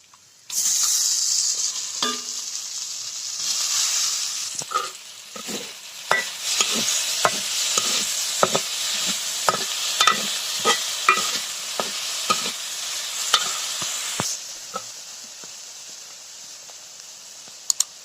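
Prawns sizzle steadily as they fry in a pan, with repeated scraping taps from stirring that come through close and clear for most of the stretch before the frying eases off near the end.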